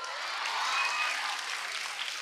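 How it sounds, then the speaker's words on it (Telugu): An audience at a Telugu film song launch event claps in a brief, dense burst of applause, heard from a moderate distance with no voices over it. "మాధవీలత గారు కూడా క్లాప్స్ కొడుతున్నారు"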